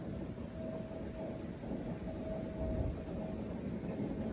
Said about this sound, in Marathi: ती ट्रेन चालली आता